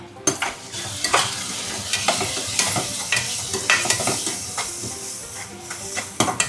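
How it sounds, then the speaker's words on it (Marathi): Onion and tomato fry in a pan with turmeric, homemade masala, Kashmiri chilli and garam masala, a steady close sizzle broken by frequent scraping stirs of a spoon against the pan. "कांदा आणि टॅमॅटो शिजला आपला आता यामध्ये मी मसाले टाकते"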